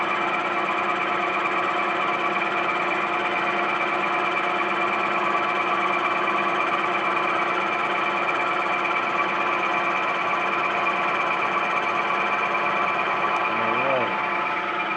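A milling machine cuts metal with the feed running, a steady loud mechanical hum and whine that continues without a break, with a brief voice near the end.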